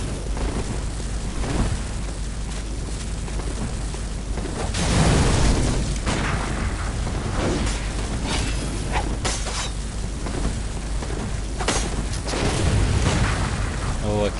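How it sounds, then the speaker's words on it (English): Cannon fire and heavy explosions in Bloodborne, repeated booming blasts over a dense rumbling battle din, loud and fairly close, with a voice speaking at times. "Oh, a cannon."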